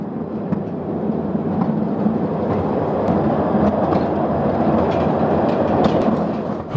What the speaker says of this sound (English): they get to ride a mine train back to the surface